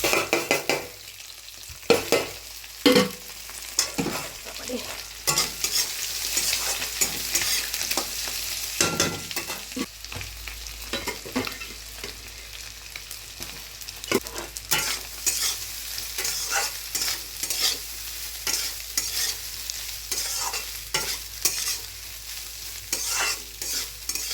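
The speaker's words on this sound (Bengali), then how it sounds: "শর্টকাটে হচ্ছে ফ্রাইড রাইস করছি।" Shortcut fried rice with garlic sizzling in a pan while a utensil stirs it, scraping and clattering in repeated bursts over a steady loud fry, no voices.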